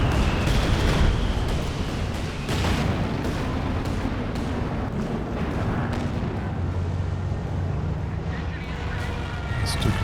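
Explosions from a Land Mattress rocket barrage and a dive bomb in Company of Heroes 2 boom and thud repeatedly in a rumbling battlefield din, with a commentator talking over the blasts.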